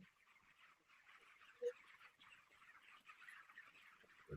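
Flock of chickens at a poultry farm, a faint continuous murmur of clucking and chatter with one brief louder call partway through.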